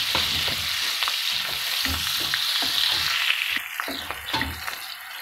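Garlic cloves, onion and green chili frying in a pan for butter chicken, a strong close sizzle with a rhythm of spatula scrapes and stirs throughout, no speech.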